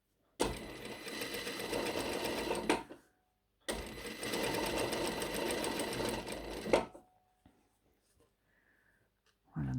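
A sewing machine topstitches in black thread, setting the sleeve of a tulip-shaped garment: two steady, close runs of rapid mechanical stitching, each roughly three seconds long, separated by short pauses, then quiet handling noises.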